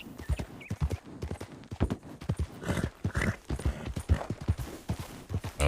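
Steady clip-clop of a ridden horse's hooves in a video game, brisk and evenly paced throughout, with only faint background sound.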